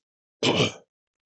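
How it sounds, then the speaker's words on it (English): A single short, rough throat clearing from a person who is sick, heard alone against silence and lasting under half a second. "And I'm clearing my throat a lot."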